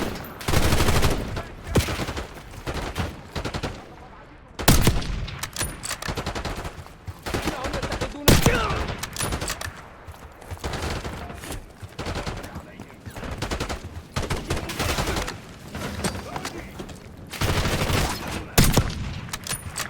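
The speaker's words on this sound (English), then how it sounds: "We've got gunfire to the right." Dense gunfire in the Black Ops 6 video game campaign: rapid automatic bursts and single shots crackle almost nonstop for twenty seconds, loud and close, with voices speaking at times beneath the shooting.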